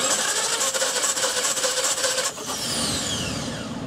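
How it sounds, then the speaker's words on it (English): A car engine cranking over during a compression test, a steady, rhythmic starter churn that holds for a few seconds and then shifts as the engine spins down, close and fairly loud. "We are going to crank the engine 5 times."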